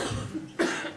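A couple of short, close coughs in quick succession, the second one sharp and abrupt.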